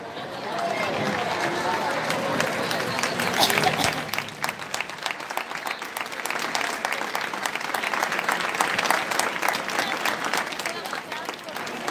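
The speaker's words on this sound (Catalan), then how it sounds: "Ara, quan entrin, els hi donarem una molt bona benvinguda amb un fort aplaudiment." An audience at a 2018 skating festival applauds warmly for a long stretch as skaters enter, with dense steady clapping and a faint murmur of crowd voices beneath.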